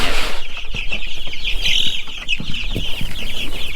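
Chicks on a farm cluck and peep constantly at feeding time, a close, busy chorus of overlapping calls with light rustling beneath.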